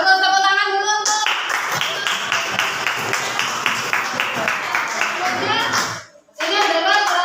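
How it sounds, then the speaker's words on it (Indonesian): A classroom of children claps together in a brisk burst of applause, loud and close, with kids' voices mixed in, a brief dip near the end, then voices again. "Sudah bagus, tepuk tangan dulu."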